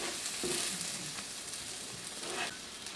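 Whole shallots caramelizing with sugar in a pan sizzle and crackle steadily, close and moderately loud, with a few soft stirring scrapes and no voices.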